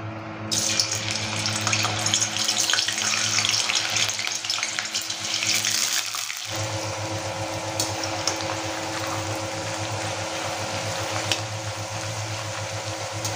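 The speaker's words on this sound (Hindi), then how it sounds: "अब हम इसमें डालेंगे चिप्स, ये जो केले के चिप्स है ये डालेंगे।" Banana chips frying in hot oil in a kadai: after a brief quiet opening, a dense bubbling sizzle sets in and holds steady and close for the rest of the clip.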